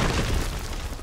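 An enemy tower in a SMITE match collapses with a single heavy, booming blast that fills the whole short moment, loud and close.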